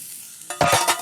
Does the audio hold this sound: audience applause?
no